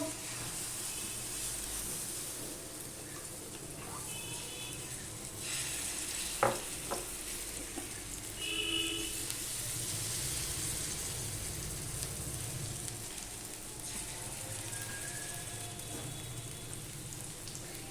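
Curry leaves in a tadka sizzle and crackle in hot oil for a besan vegetarian tiffin, a steady soft hiss with a few sharper pops and some stirring clatter, heard alone without speech.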